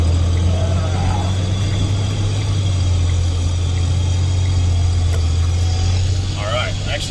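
A steady low engine drone hums throughout, a truck idling close by, with faint voices over it.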